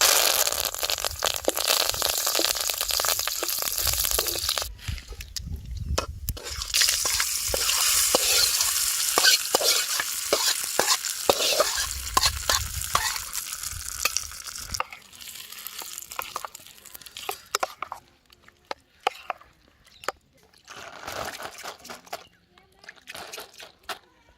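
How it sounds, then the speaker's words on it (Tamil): Mustard seeds, cumin, dal and curry leaves crackle in hot oil for a ragi kali meal, a loud dense sizzle that fades later into sparse pops and drips, with some voices in the background. "கடுகு போட்டுரும் கடுகு போட்டாச்சு கொஞ்சம் சீரகம் போடுறோம் நல்ல பருப்பு கருவேப்பிலை"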